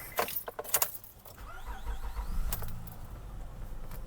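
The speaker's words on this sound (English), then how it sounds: "Quick startup of the car." Keys jangle briefly up close, then a 2004 Acura MDX engine with 200k miles cranks and catches, settling into a low rumbling idle.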